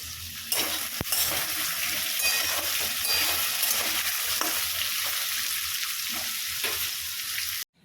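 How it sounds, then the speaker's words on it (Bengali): Cut potatoes fry in hot oil in a pan, a loud continuous sizzle with occasional clinks of a utensil stirring against the metal, ending abruptly. "দিয়ে দিলাম তেল, ভেজে দেবো কেটে রাখা আলু"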